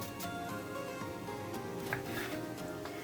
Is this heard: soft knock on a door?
no